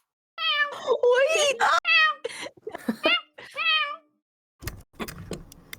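A person imitates a cat, giving several drawn-out, wavering meows close to the mic, followed by a few soft clicks and brief noises.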